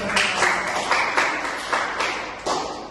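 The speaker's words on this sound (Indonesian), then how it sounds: "Berikan tepuk tangan kepada Bu Floren" Classroom applause for a student presenter, a scattered group clapping steadily over about three seconds with several sharper bursts, fairly close and without talk.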